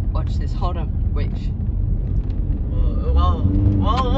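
Diesel BMW car accelerating, a loud low engine rumble running steadily beneath excited talking and shouting from people inside the cabin.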